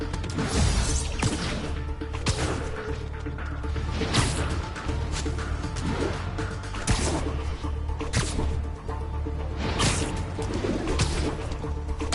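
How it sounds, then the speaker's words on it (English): Pigeon cooing in the video game Marvel's Spider-Man, soft repeated coos over a busy, steady game soundscape with occasional whooshes and thumps. "A pigeon. Don't fly away, please!"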